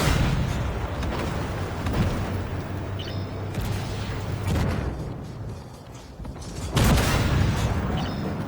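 Tank cannon fire in the Armored Warfare video game as a tank destroyer takes hits on its side armor: dense rumbling booms and blasts over continuous engine drone, with a heavy burst near the end.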